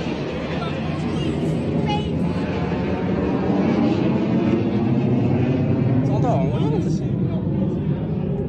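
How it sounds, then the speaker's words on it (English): The Chinese GJ-11 stealth combat drone flies past with a continuous broad jet-like roar that holds steady throughout, while a crowd murmurs faintly beneath it. "A new video revealed the latest Chinese GJ-11 stealth combat drone in flight for the first time."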